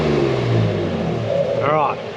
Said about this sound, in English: So this is what the car sounds like with just the Torqit exhaust on it.